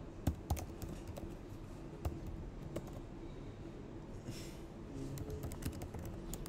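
Computer keyboard typing while writing React code, a steady run of light key clicks with a few sharper taps, close and fairly quiet, with no talking.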